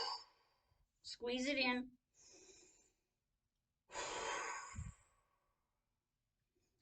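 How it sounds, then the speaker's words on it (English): A person takes deep breaths down into the abdomen, with audible inhales and a long, sighing exhale, separated by pauses and a few spoken words. "So I'm going to take real deep breaths way down here."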